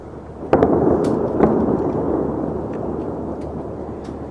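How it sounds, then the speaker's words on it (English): An airstrike explosion heard as a deep, sustained rumble with a couple of sharp cracks near the start, fading slowly into a rolling roar. "I am replaying this airstrike"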